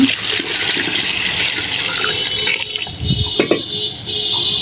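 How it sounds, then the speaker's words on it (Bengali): Water poured into a pot of sautéed rice for a thin khichuri cooked with fat: a close, steady rushing pour for about three seconds, then a few splashes and trickles as the stream ends. "এবার পরিমাণ মতো পানি দিয়ে দেবো।"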